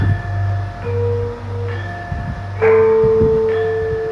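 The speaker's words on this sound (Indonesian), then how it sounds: "Nah, coba kita dengarkan saron ini ya." Metal keys of a Javanese gamelan saron are struck one by one in a slow sequence, each bright ringing tone lingering and overlapping the next, close and clear.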